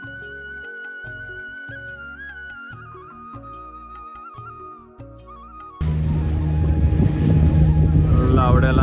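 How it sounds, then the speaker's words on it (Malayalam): A boat trip out on the sea off Goa, the engine and water noise surging in loudly after a stretch of music, with voices faintly present. "ബോട്ട് യാത്ര."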